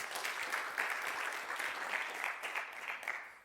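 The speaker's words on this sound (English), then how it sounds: "So a round of applause again to the organizers" A crowd claps for the organizers at a university masters program launch event, a steady even round of applause heard from some distance, moderately quiet and unbroken throughout.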